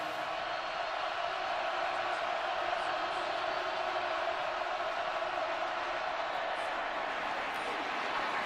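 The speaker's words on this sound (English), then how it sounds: "Listen to this crowd on 3rd down." Football stadium crowd at Kansas State during a Baylor road game on third down, a constant loud roar of massed voices filling the whole stretch, heard from a distance without letting up.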